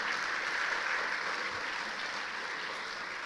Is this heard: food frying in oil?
no